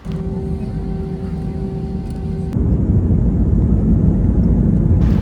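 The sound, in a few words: airplane taking off at Suvarnabhumi Airport, Bangkok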